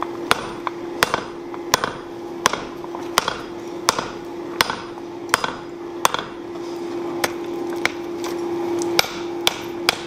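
Sharp metallic hammer blows ring out on a steel face plate on a Harbor Freight anvil during forge welding, struck in a steady rhythm of about one or two hits per second over a low ringing hum.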